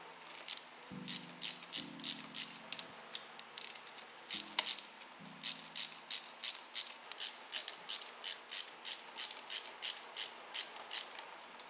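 A ratchet tightens a screw during a garage electrical box install, giving rapid repeated clicking strokes with brief pauses between bursts, close and fairly loud, with no talking.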